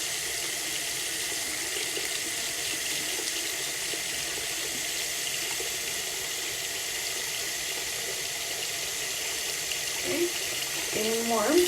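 Warm water running from a tap steadily fills a sink, a soft continuous hiss that holds even throughout and grows slightly louder and splashier near the end.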